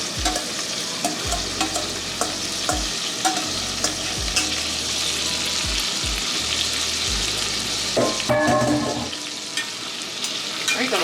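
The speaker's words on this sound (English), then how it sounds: "we got our last 2 pieces of meat browning. I'm going to go ahead and add the onions and the rest of that excess oil in." Pork steaks browning in a pan with onions and oil, a constant loud sizzle with periodic scraping stirs, growing busier with spitting crackles near the end.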